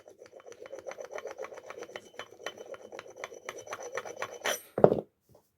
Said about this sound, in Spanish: se lo quitamos así con la parte contraria de la sierra